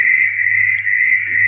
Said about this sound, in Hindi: अभी ये आप टोड की आवाज़ सुन रहे हैं